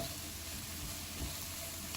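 Vegetables with garlic sweating in a pan on the stove give off a soft, steady sizzle, faint and continuous with no talking.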